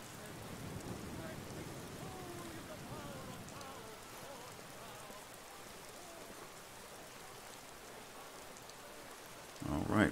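Rain and thunder in the video game Skyrim Special Edition with mods, under overcast skies: a soft, steady rain hiss with a low rolling rumble early on, and a brief louder sound at the end.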